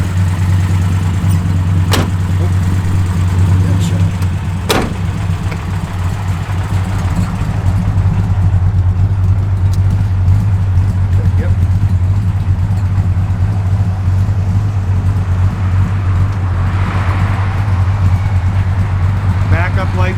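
A 1966 Dodge Coronet 500 engine idles at close range, a steady low rumble that holds through the whole stretch with little change in level, and faint talk drifts in beneath it.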